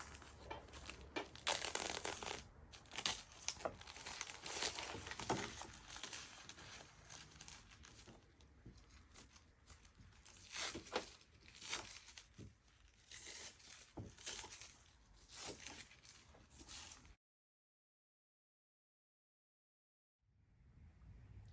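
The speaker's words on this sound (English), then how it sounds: "Now we have to deal with all this tape. It all has to come off." Tape is peeled and ripped away in long, noisy stretches with crackling tears, fairly quiet and close, then a few seconds of silence before more tearing resumes.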